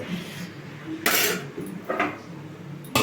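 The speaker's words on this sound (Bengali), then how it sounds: "এবারে ঢাকা দিয়ে দেবো" A lid set onto a cooking pot of simmering potato curry: a few sharp metallic clanks and clinks, close and loud, spaced within a few seconds over a quiet background.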